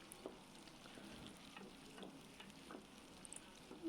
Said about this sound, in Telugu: ఆనియన్స్ పచ్చిమిర్చి వేసి బాగా వేగనీయాలి. వేగుతూ ఉంటాయి, మరి మాడనివ్వద్దండి, బాగా వేగనీయండి